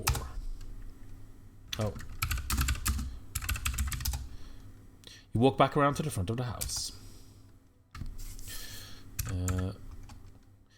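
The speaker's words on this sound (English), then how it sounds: "even though you can hear my typing, the game actually does have a typing sound effect" Rapid bursts of computer keyboard typing while playing a text adventure game, clattering in short runs separated by pauses, with someone speaking between and over the keystrokes.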